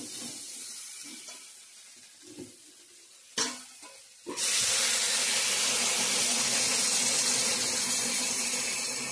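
Hot water poured onto fried spice masala for a Bengali egg curry sets off a sudden loud, steady hiss that fills the rest of the clip, after quieter stirring and frying sounds.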